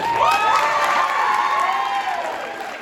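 A crowd at a corporate gathering claps, cheers and whoops loudly, a dense burst that stays strong before easing slightly at the end.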